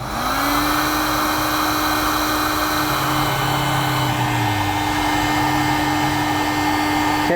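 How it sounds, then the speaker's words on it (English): A heat gun blows steadily at close range while sealing trailer wiring connections on a 7-pole RV-style connector socket. It makes a loud, even motorized whir with a constant whine throughout, with no talking. "Now we can take your heat gun,"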